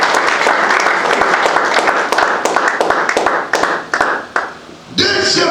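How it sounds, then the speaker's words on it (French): A church congregation at a Sunday prayer and fasting service claps hands in loud, dense applause, briefly tapering before a voice cuts in at the end. "Can you clap your hands for the Lord?"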